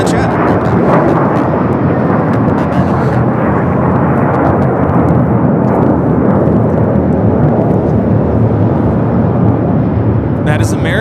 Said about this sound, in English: 1167 taking off to Dallas, Fort Worth on the A321